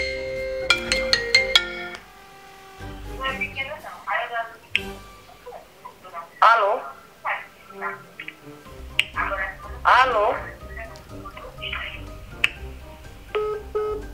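Phone ringing while a collect call goes through, with a repeating electronic ring tone over clicks and background noise, loud and close, and people talking at times.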